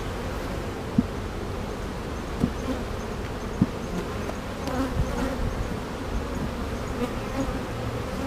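Steady, dense buzzing of many honey bees close by around a hive, continuous throughout with a few faint soft knocks.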